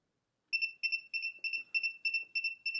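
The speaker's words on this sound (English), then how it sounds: "We go to negative, we hear that double beep, that means we're at negative" An ANCEL PB600 automotive circuit tester probing a negative connection gives repeated sharp electronic double beeps, close and clear, in a steady rhythm of about eight paired tones after a moment of silence.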